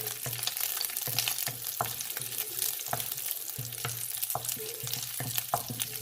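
Fried rice with small shallots stir-frying in a pan, a steady broadband sizzle broken by repeated scraping strokes of a spatula at an uneven rhythm, close and fairly loud, with no talking.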